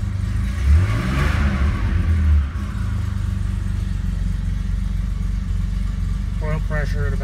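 A cold 1972 E coupe engine idles steadily on hand throttle after a cold start, a continuous low rumble throughout, with a person talking over it early on.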